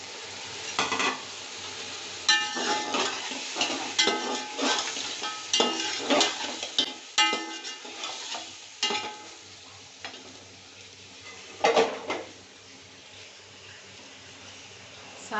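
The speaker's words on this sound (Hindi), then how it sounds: "और साथ ही मैं इसमें ये मटन जो है ये डाल दूँ।" Mutton sizzles in a hot pan with onions while a spoon scrapes and stirs in repeated bursts, close and fairly quiet.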